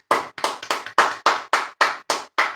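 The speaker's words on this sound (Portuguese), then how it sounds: "E as palmas é para o Senhor Jesus." A church congregation at the close of a service claps in a brisk, even rhythm, about ten sharp claps heard close and alone with no talk.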